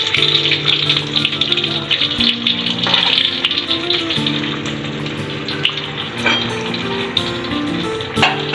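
A chicken spring roll fries in oil over medium-low heat with a steady, crackling sizzle that never stops, occasionally sputtering more sharply over a faint tonal hum.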